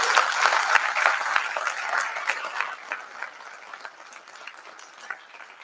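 An audience applauds at a Hindi poetry gathering (kavi sammelan) in Gwalior: dense clapping that starts loud and gradually thins and fades over several seconds.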